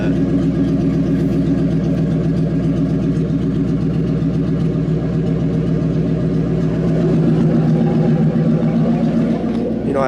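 A Ford Mustang engine with its mufflers cut off, revving with the clutch in, a loud steady rumbling roar that holds throughout and swells slightly toward the end.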